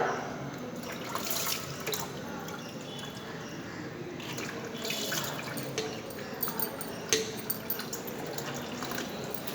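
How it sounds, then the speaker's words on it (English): Running water splashes steadily with small irregular drips and clinks as a measuring cylinder is rinsed under a tap, fairly close and continuous. "Wash this measuring cylinder with water."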